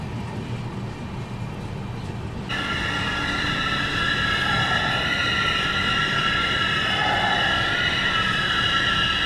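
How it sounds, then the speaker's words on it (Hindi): A passenger train at Wadi Junction rumbles in close and loud, with a sharp rise partway through as bright squealing, ringing tones from wheels and brakes join the steady roar, with no talk. "तो अभी हम लोगों की ट्रेन ये आकर रुक चुकी है वाड़ी जंक्शन पे"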